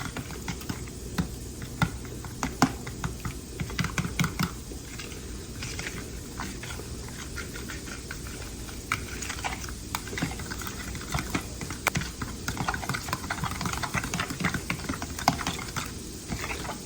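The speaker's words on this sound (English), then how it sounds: "I'm just going to use a fork and just mix this up" A fork whisks eggs and flour together in a bowl, making rapid, continuous clicking and tapping against the bowl's sides. The strokes run in a fast, uneven rhythm, close up, with no talking over them.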